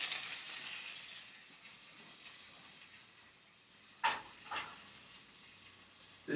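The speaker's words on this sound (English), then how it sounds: "Get a close up on that sizzle action" Jalapeno bacon sizzles in a pan while being cooked for a stuffed-crust pizza, a steady close crackling hiss with a couple of sharper spits and pops near the end.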